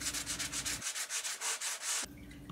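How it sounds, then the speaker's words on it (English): A drywall sanding block sands cork roadbed for an HO scale model railroad: close, rhythmic back-and-forth scratchy strokes, about a dozen quick passes in a steady cadence. "took a drywall sanding block and just sanded down any bumps or ridges"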